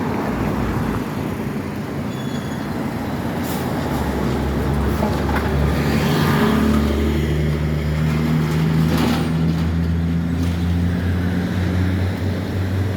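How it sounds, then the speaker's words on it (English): A movie production truck passing along a city street gives a loud, steady low engine rumble that fills the whole stretch and swells slightly in the middle, with no talking. "That's one of those movie production trucks."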